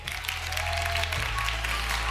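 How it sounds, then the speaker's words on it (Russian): A brief burst of audience clapping rings out at the closing of a national student graduation event, steady and fairly loud over a low hum, lasting only a couple of seconds. "Вам аплодисменты!"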